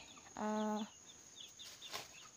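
A single short cluck from a white chicken, fairly close, followed by faint chirps and soft background noise.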